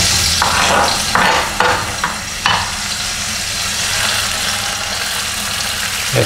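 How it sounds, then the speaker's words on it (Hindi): Ginger and tomato frying together in a pan, a loud close sizzle with several stirring strokes in the first few seconds, then a steady frying hiss. "अदरक और टमाटर इकट्ठा फ्राई करने"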